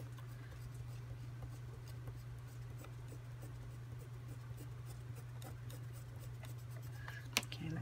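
A rub-on transfer is burnished onto a surface with steady, scratchy rubbing strokes, close and quiet over a low constant hum, ending with a faint tap.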